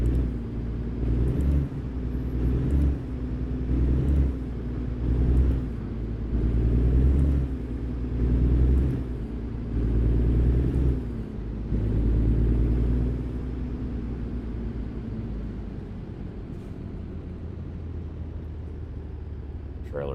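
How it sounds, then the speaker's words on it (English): A Freightliner Cascadia truck with a 2024 Detroit DD16 engine drives in American Truck Simulator, a loud steady diesel rumble with rising and falling pulses that eases off near the end. "This truck is running a modern 2024 DD16."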